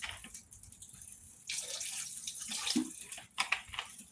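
Cold tap water running over meat being cleaned with white vinegar, a steady splashing flow that swells louder partway through, with irregular drips and splatters and no talking.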